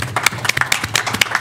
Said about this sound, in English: the county deserves a round of applause for that big announcement